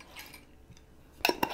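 A spoon mixing sugar and dry active yeast in a small bowl gives a few short, bright metallic clinks near the end, after a quiet stretch, with no voices.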